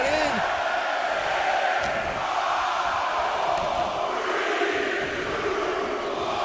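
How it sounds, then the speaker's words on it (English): Virtual arena crowd in the WWE 2K24 wrestling video game, a steady wash of distant crowd noise with swelling shouts under continuous commentary. "Listen to this crowd count the next one in."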